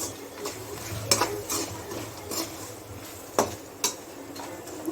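Onions and ginger-garlic paste being stirred in a pan while cooking uggani, with intermittent spoon clinks and scrapes over a faint sizzle.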